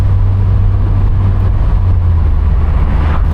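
Steady, deep exhaust rumble from a Mazda MX-5 cruising at low revs in sixth gear, a constant low hum with no drone and no talking.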